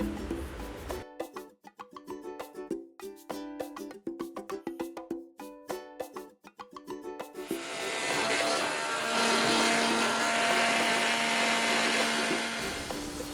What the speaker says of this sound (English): put it in my grinder and going to make a mixture out of it